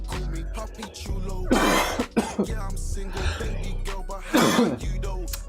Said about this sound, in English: Sorry, you got a cough.